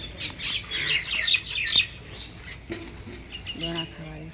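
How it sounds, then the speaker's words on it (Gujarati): A flock of mynas chatters and squawks noisily nearby, then quieter calls follow with some people talking in the background. "જો આ બાજુ અમારે કાબરો બધી"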